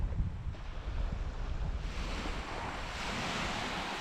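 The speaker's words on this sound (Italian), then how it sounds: "Ecco il mare." Sea waves wash steadily onto a shore where people fish, a continuous broad surf roar mixed with wind noise, moderately loud and without voices.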